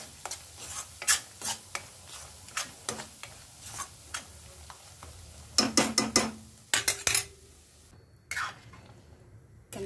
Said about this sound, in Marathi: तेल सुटेपर्यंत आपल्याला परतवायचं आहे।